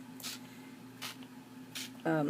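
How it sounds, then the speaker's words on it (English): Short hissing bursts of tarnished brass spray stain released from an aerosol can over a journal page, three quick sprays spaced apart against a steady background hum, followed by a brief voiced sound at the end. "So I'm going to use tarnished brass spray stain"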